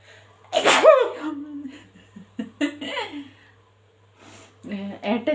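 A loud, close sneeze from someone who got chili powder up the nose, followed by laughter and breathy giggles, with more laughing and voices afterward.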